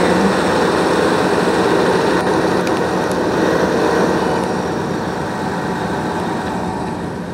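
A tractor engine in the farming video game Farm Simulator 15 drones loud and steady, a continuous close rumble with no talk over it.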